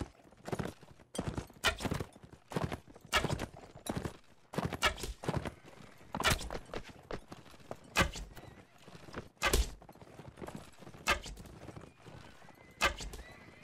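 Horse hooves and neighing in the video game Mount & Blade: irregular heavy thuds and clattering hoof strikes come in scattered bursts, with occasional whinnies, fairly loud against a quiet background.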